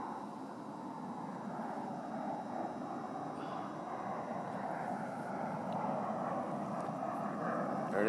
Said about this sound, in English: I got a plane.